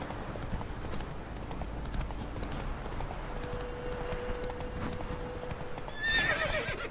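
Roach, a horse in the video game The Witcher 3, gallops with continuous rhythmic clip-clop hoofbeats, and a short whinny rises near the end.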